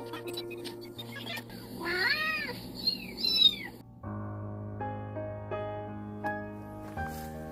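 Several cats meow in a short cluster of rising and falling cries partway through, fairly close, with steady background tones before and after; the cats are strays being rounded up on a hillside in Seosan, South Korea.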